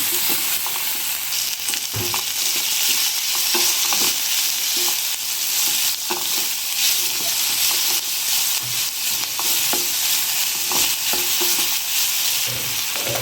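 Capsicum curry fries in hot oil in a pan with a steady, close sizzle throughout. It is broken up by repeated scraping and stirring knocks, and no one speaks.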